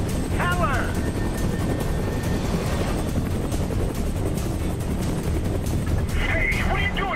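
A gunship helicopter in the game Prototype 2 drones steadily with a broad, continuous rotor and engine roar throughout, while voices talk over it near the start and end.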